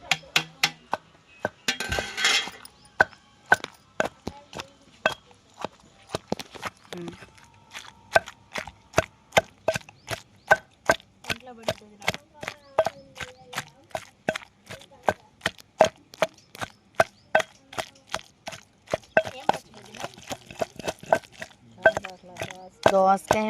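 Cucumber and brinjal being pounded for chutney, a long run of sharp, evenly spaced thuds from close by that quicken toward the end, with a brief rattle near the start and no voices.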